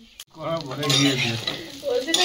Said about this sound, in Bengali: মাছ প্রায় ভাজা হয়ে এসছে, ওর সঙ্গে দিয়ে আর একটু ভেজে নেব